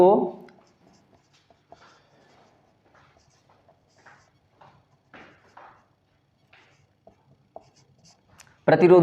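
Pen writing out a physics problem solution on paper, faint scattered scratches and taps between quiet pauses, with a voice speaking briefly at the start and end.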